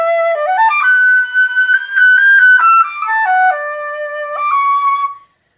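A flute plays a smooth slurred passage with no tonguing, the notes gliding one into the next in a steady connected line, close and clear with no talk.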